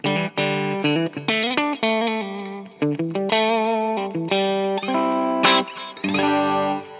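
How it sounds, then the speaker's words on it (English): Clean electric guitar notes played in short phrases, each attack evened out and sustained with a compressed, squashed quality and slight chorus shimmer. "It can get that squash sound with just a simple turn of the compression amount."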